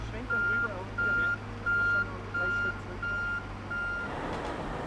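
A Märklin model truck with a heavy load idles with a low engine rumble while its reversing alarm beeps six times in an even, steady rhythm, then a hiss follows.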